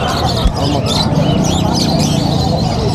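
Pigeons for sale at a market coo and flutter close by amid busy crowd chatter and background noise.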